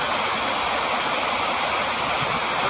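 A forest waterfall where tourists bathe roars as a loud, dense, unbroken rush of falling water, close and steady throughout with no voices.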